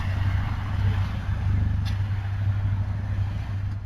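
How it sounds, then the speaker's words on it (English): A red car idles and pulls away nearby, its steady low engine hum running throughout at moderate loudness. "the red car pulls off"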